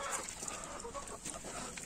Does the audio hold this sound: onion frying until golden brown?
no